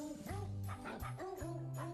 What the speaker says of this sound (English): Those on the naughty list have to listen to dogs barking Christmas songs.